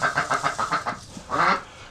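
Several ducks quack in a quick run of repeated calls, then a louder, longer burst of quacking, close by and with no talking, at a farm where duck eggs are being incubated.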